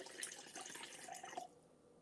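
Strawberry cut water poured into a container, a brief splashing, trickling stream lasting about a second and a half before stopping, close and fairly quiet.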